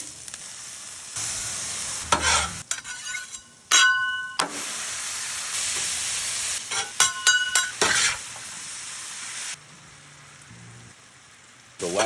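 Picanha beef fat fries on a hot surface, giving a loud, steady, hissing sizzle broken by sharper crackles and brief scraping stirs, with no talking.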